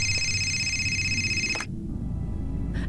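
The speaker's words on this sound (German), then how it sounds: "Telefon." Telephone ringing in the video game Fahrenheit: one sustained electronic ring lasting about a second and a half, clear against quiet background, followed by a brief start of another ring near the end.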